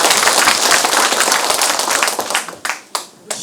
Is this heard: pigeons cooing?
no